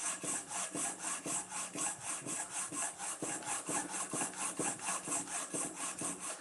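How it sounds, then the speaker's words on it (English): A block plane iron is rubbed back and forth on a 300-grit sharpening plate, giving a steady, loud rasping scrape that repeats about every third of a second, close up and with no talking. "It's beginning to grind more on that edge than it is on here. So I'm going to just work this for a minute or two."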